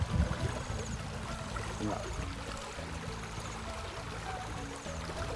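Water running through a pipe used as a folk fish trap after rain, a steady broadband rush and trickle that continues at even loudness throughout, close by and alone.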